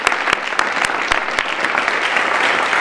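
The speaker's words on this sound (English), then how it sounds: "I feel like that deserves an enormous round of applause to everyone involved." Loud, sustained applause from a conference audience after a big data exploration talk, dense clapping from many hands with a few sharp individual claps standing out near the front.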